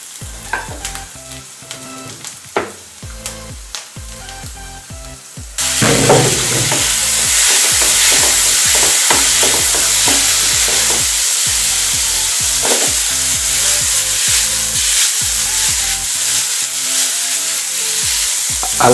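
Spaghetti tossed into a hot pan with garlic, ginger and capsicum, a loud steady sizzle that jumps up partway through, with repeated stirring scrapes and clatters over the continuous frying hiss.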